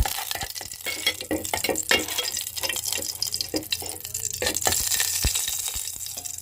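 Ghee and cooking oil heating in a pan on a home stove, giving a steady close crackle and sizzle with scattered sharp pops and spits, no talking.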